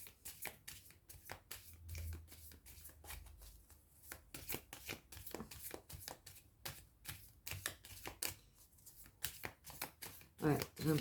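Tarot cards being shuffled by hand in a run of quick riffling bursts, close and fairly quiet, with a voice speaking at times over the shuffling.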